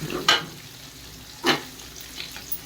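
Dried red chillies and onions frying in oil for masala sevai: a soft, steady sizzle broken by two short clanks of stirring, heard close with no talk.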